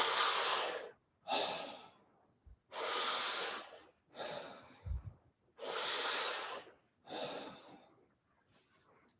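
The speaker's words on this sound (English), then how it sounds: "take a very deep breath in and just exhale" A person in a guided breathing workshop takes deep breaths, exhaling through the mouth: slow, close, airy inhale-and-exhale cycles repeat in a steady rhythm, with long rushing exhales and no talk.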